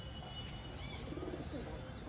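A fantail pigeon coos softly, a faint brief murmur deep in a steady hiss of background noise.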